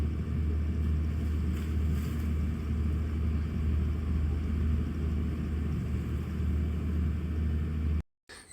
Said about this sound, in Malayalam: അങ്ങനെ ഞങ്ങളെ ബോട്ട് യാത്രയൊക്കെ ആരംഭിച്ചു.